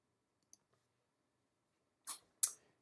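A computer mouse clicks the Save button while entering an expense in Salesforce: two sharp, close clicks in quick succession after a faint tick, in an otherwise silent room.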